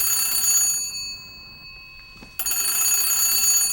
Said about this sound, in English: Will you get the phone, Ellen?